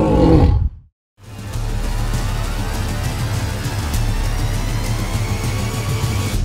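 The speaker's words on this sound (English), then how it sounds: "That is why you can hear a lion's roar 8 kilometers away from where it sat." A lion's deep, powerful roar fills the clip, breaking off for a brief pause before a long, low rumbling roar resumes, loud and close.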